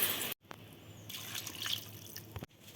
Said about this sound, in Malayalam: ഞാനിതിൽ 2 കപ്പ് വെള്ളം ഒഴിച്ചു.